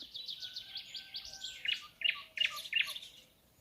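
Morning birdsong: several birds chirp and trill together, with repeated quick high notes that grow louder and sharper in the second half, over faint background hiss and no voices.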